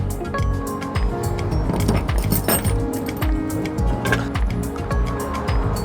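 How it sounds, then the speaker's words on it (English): Metal bolts, washers and nuts for a bed box bracket clink and rattle as they are handled, a steady busy jingle of small hardware close by with no talk. "we'll need 3 sets of bolts, washers and nuts, as well as our Allen key and a 13mm socket"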